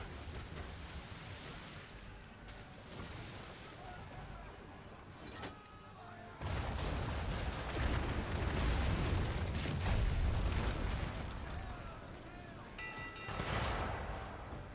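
Mortar rounds exploding in a video game, a dense run of heavy booming blasts that swells louder partway through and stays rumbling and crowded, with a voice faintly present.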